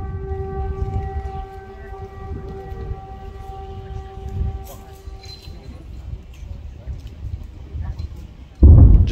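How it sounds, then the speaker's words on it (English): Air raid warning siren sounding in Ukraine, a steady distant wail heard beneath someone talking over background noise, ending with a sudden loud thump. "The air raid warning sounds again and there is a threat of missile strike."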